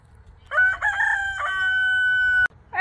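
A rooster crows loudly and close by in one long, drawn-out call inside a chicken aviary, followed by the start of another crow.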